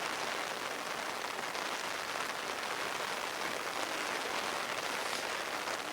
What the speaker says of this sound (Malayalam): ഷിരൂരിൽ ഇപ്പോൾ ശക്തമായ മഴയാണ് നിലനിൽക്കുന്നത്